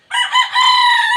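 A fighting rooster crows once, loud and close, a single drawn-out raspy call with no other sounds around it.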